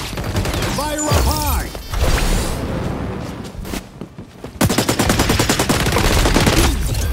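Gunfire in the online shooter XDefiant crackles in rapid automatic bursts and single shots, loud and close, with team voices and game callouts at the start.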